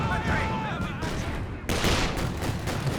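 Infantry support guns fire during a 2v2 Company of Heroes 2 match, giving a dense, continuous rattle of gunfire that swells into a heavier barrage about halfway through, with a voice talking underneath.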